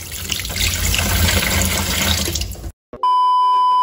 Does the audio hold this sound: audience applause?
no